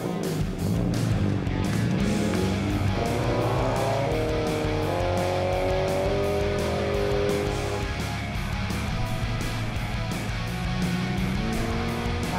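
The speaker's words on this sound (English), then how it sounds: "Let's go for a drive." Race car driving on a track, a loud close engine note rising and falling through gear changes, with brief tyre scrubs over a constant roar.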